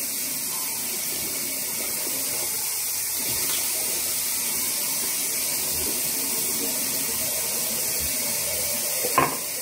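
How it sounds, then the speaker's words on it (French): Water runs steadily from a tap while teeth are brushed and washed with lukewarm water, a continuous close hiss of spray lasting throughout, ending with a short clunk. "Là, je lave mes dents."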